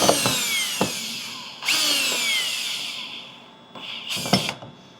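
Power drill driving short screws into the double-walled plastic shell of a DIY cold tub, several short whirring bursts separated by pauses, close and fairly loud with no talking.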